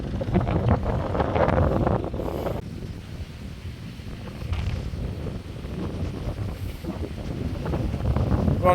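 Wind blowing across a quiet open field, a steady broadband rush buffeting close to the microphone, loud and continuous with gusts rising and easing, no voices.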